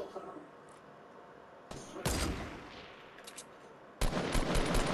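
Bursts of video game gunfire in Fortnite aimed at a hut, loud and dense, coming in two heavy volleys separated by quieter stretches.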